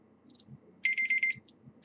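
A phone timer alarm goes off with a quick burst of repeated high electronic beeps, a short rapid pulsing run then a fresh beep starting, over faint room noise.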